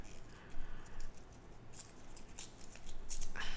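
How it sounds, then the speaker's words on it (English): Paper torn by hand while a junk journal is assembled: a few short, crisp ripping bursts spaced apart, close and fairly quiet over a soft background hiss. "I'm gonna tear here"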